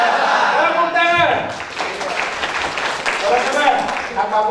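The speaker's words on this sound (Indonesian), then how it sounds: "Tepuk tangan!" An audience in a seminar room bursts into applause right after a loud voice calls out. Clapping is broadband and fairly close, with a speaker's voice continuing over it.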